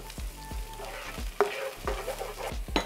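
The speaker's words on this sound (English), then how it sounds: "Give that a good stir." Tomato paste is stirred into onions and garlic in a hot pan, a steady close sizzle with several sharp scrapes and taps of the spoon against the pan.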